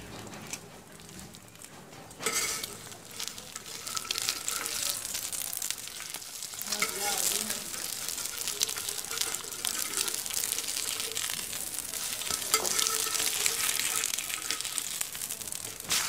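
Egg-dipped bread fries on a flat tawa over a low flame, with a steady close sizzle that swells after a couple of seconds and then runs on evenly, crackling softly with faint scrapes and no talk.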